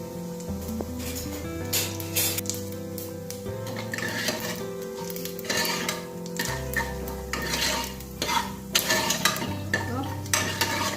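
Mustard seeds, cumin and urad dal with a pinch of asafoetida tempering in hot oil in a pan, a steady crackle and sizzle with spoon stirring, under music.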